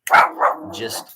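A dog gives a short bark close to the microphone, two quick yelps in a row, fairly loud and alone.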